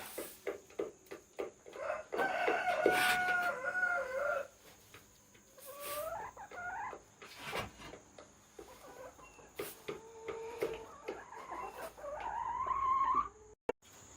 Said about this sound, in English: the roosters are obviously upset that I'm cleaning house today